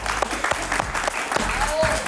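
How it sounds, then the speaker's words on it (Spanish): Studio audience applauding a guest doctor on a TV talk show, a loud steady wash of clapping with a brief whistle-like tone near the end and some voices mixed in. "Un aplauso para el doctor Marquina, por favor."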